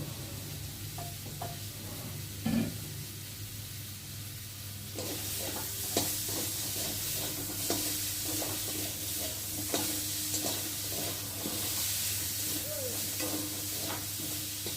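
Hog plum chutney sautéed in a pan, a steady moderate sizzle with repeated scraping stirs of a spoon against the pan, getting busier and louder partway through, with no talking.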